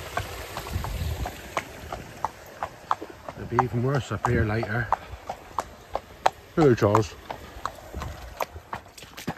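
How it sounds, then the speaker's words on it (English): A horse runs off across wet ground, its hooves clip-clopping in a rapid series of sharp knocks near the listener, with wind in the background and people talking over parts of it. "Yes, we have a horse. And look at it running out of there."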